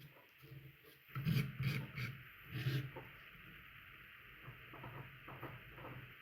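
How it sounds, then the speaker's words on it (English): A palette knife scrapes paint on an abstract painting in short rasping strokes, loudest in a burst near the start, then fading to faint intermittent scratches at close range. "I also apologize if that scraping noise is bothering anyone."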